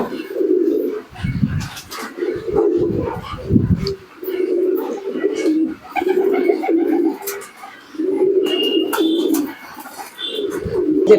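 Jack pigeons in a loft coo close and loud in repeated rolling bouts, with short gaps between phrases and a few sharper bird calls mixed in.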